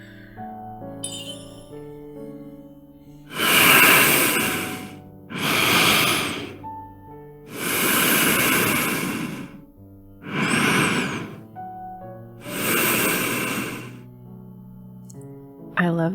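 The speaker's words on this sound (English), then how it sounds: "I love the sound of Zayne's breathing." Character Zayne breathing slowly and deeply in the game Love and Deepspace, five long breaths spaced a few seconds apart over soft background music, close and intimate.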